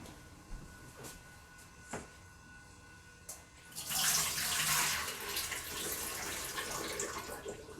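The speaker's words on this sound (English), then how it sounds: "now I'm going to drain my rice" Water from soaked sticky rice being drained, a few soft knocks and clicks first, then a steady rushing pour of water that continues to the end.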